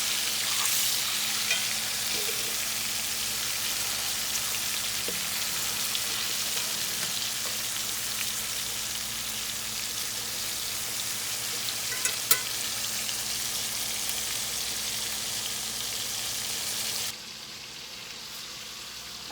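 Flour-crusted cube steaks frying in a pan, a steady close hiss and crackle of hot oil with small pops, continuing evenly before dropping abruptly quieter near the end, with no talking.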